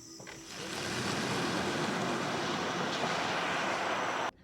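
A 2024 Cadillac Lyriq electric SUV launches off the line in sport mode, a steady loud rush of road and wind noise with a faint whine that holds for about four seconds and then cuts off abruptly.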